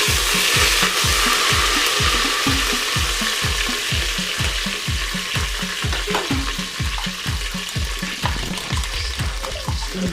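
Mint and curry leaves sautéing in a multipot, a steady sizzle with a regular rhythmic scrape of a spoon stirring the pan throughout, close and clear with no talk.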